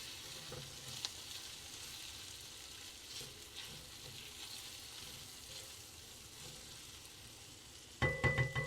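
Butter melting in a one-pan curry cooked in a campervan, a quiet, steady sizzle that holds evenly throughout, with a brief clatter near the end.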